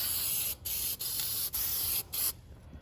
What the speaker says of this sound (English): let me get all this rust reformer on this thing